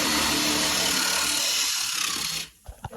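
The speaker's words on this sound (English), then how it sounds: "You don't pry at it, you just drill the head off of" A power drill grinding loudly into a metal rivet head for a couple of seconds, then stopping, followed by a few light knocks.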